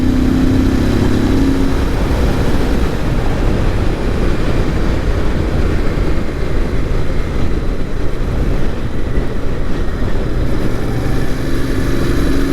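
A Royal Enfield Interceptor 650 motorcycle engine hums steadily while riding, a loud, continuous low rumble mixed with wind rush that holds for the whole stretch without pauses.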